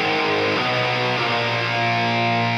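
Doubled power chords from an Ample Guitar TC virtual guitar with heavy distortion, a thick sustained wall of sound that re-strikes around the half-second mark and rings loud and dense throughout.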